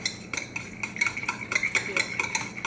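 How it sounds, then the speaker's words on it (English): Whisk clattering rhythmically against a bowl while half and half is stirred into a sugar mixture for a coconut cream pie filling, steady close scraping strokes about three per second, no talking. "whisk it into the sugar mixture"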